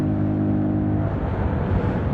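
A 2025 Voge 125R motorcycle accelerates, its small single-cylinder engine droning loudly and steadily, with the pitch shifting as it pulls through the revs on a road ride.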